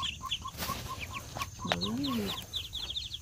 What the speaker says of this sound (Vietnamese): Đây vịt mình mới nở nha, thấy không?